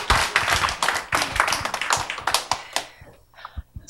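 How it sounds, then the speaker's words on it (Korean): A small audience claps a welcome for a guest at a Korean storytelling event. The claps are dense and sharp at first, then thin out to a few scattered claps near the end. "박수로 맞이해 주시기 바랍니다."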